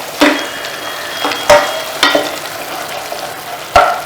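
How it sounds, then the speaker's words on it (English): A sprig of curry leaves stirred into a pot of bamboo shoot curry: a few sharp spoon knocks and scrapes against the pot over a soft simmering sizzle, no talking. "I am going to stir it"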